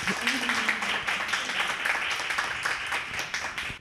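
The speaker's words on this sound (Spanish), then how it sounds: "Un aplauso, por favor, para ella." A modest audience at a monthly conversation event about books and online exposure applauds its guest. The soft, even clapping carries on under a voice talking over it.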